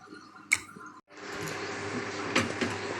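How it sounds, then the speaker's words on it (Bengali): Hot spice tempering poured into a cooking vegetarian dish: a brief splash and clink, a short pause, then a burst of broad hissing sizzle that carries on steadily up close. "চলো এর মধ্যে ফোড়নটা ঢেলে দিই"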